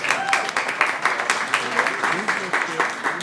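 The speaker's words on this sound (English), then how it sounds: "if we can give him a round of applause" Audience applause for an author and pianist at an evening event, a lively patter of clapping hands, fairly close, with voices talking over it throughout.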